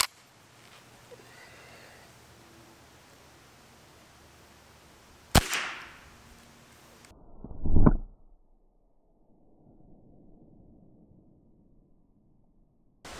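A single sharp crack from an unsuppressed rifle firing a CCI .22 LR 45-grain subsonic hollow point round, close and outdoors, followed a couple of seconds later by a duller thump.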